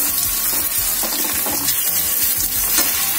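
A crushed ginger, garlic, green chili and coriander paste frying with browned onion and tomato for mixed-dal varan, giving a continuous loud sizzle with scraping stirs throughout; no talking.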